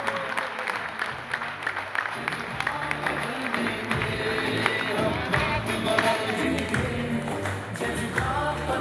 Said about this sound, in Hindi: आपकी जोरदार और धमाकेदार तालियां होनी चाहिए